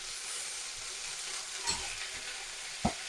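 Potatoes and drumstick flowers fry softly in a pan, a low, even sizzle with a couple of brief scrapes and knocks as a spoon stirs them, no speech.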